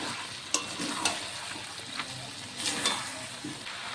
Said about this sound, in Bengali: ডালটিকে দিয়ে সব কিছুর সাথে আবারও কষিয়ে কিছুক্ষণ রান্না করে নেব